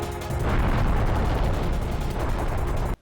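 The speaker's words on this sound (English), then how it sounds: "Surviving the Biorex explosion" A big Biorex explosion in the video game Hybrid Heaven gives a dense, loud, sustained roar of rumbling blasts and crackling debris for nearly three seconds, then cuts off abruptly, with no voices.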